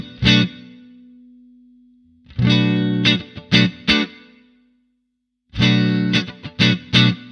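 Electric guitar through 50s wiring with a Kinman series bleed engaged, distorted, with a ringing single strike followed by two bursts of quick chopped chords separated by silence.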